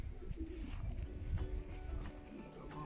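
Young racing pigeons coo softly in a loft while being fed chopped dandelion greens, low throaty murmurs overlapping with rustling and faint background bustle, quiet and close.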